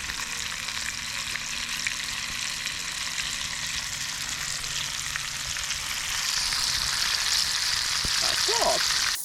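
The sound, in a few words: food frying in a pot over a campfire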